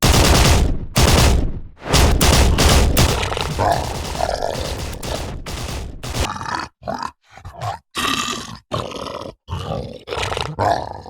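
In an animated story, soldiers fire bursts of gunfire at a mutant monster: loud, dense volleys mixed with deep roars and grunts, then choppier separate bursts separated by short silences.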